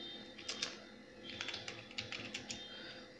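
Fingers type code on a computer keyboard while setting up a Laravel project. The soft, quick key clicks come in short irregular bursts, quiet and close.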